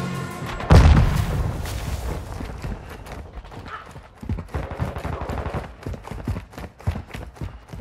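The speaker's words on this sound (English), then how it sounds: "Cluster mine deployed!" Cluster mine blasts in Call of Duty: Modern Warfare II multiplayer Team Deathmatch, a loud booming burst near the start followed by a dense run of rapid thudding detonations and gunfire-like cracks in the chaotic game mix.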